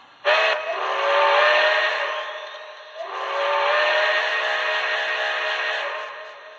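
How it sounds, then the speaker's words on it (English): The long whistle of an HO scale model Pennsylvania Railroad Q2 steam locomotive's Soundtraxx sound decoder blows loud and long twice in a row, each blast rising in pitch, with no voices. "The long whistle."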